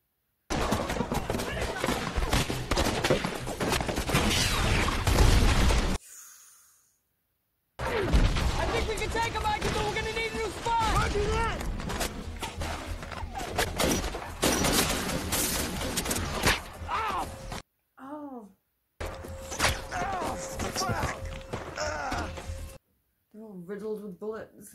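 Heavy gunfire from the 2013 war film Lone Survivor: dense, rapid bursts of shots and crashes, with shouting voices over them. Brief gaps of near silence break up the firing.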